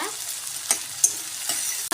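Tomatoes sizzle steadily in a hot pan while a spoon scrapes and stirs, with a few sharper clacks against the metal.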